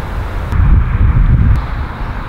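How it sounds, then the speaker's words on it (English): Wind blowing outdoors on a windy day, a loud low rumbling buffet against the microphone, steady and close with no voices over it. "it's without a doubt a windy day"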